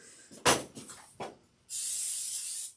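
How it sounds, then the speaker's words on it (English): Cooking oil sprayed onto an air fryer basket over a kitchen sink: a few short clattering handling knocks, then one sustained bright aerosol hiss lasting about a second, close and loud. "I'm just gonna spray this basket over the sink so we don't get oil everywhere"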